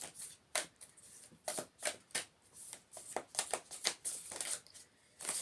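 Repeated riffling bursts of tarot cards being shuffled, crisp papery flutters in quick uneven succession, close and fairly quiet, with no talking.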